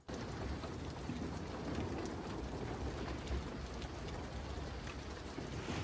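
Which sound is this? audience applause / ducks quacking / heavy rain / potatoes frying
heavy rain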